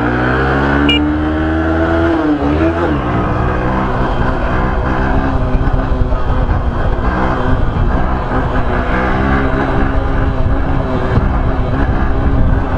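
A loud engine roars and revs up and down nearby, pitch sweeping with each throttle twist, continuous throughout.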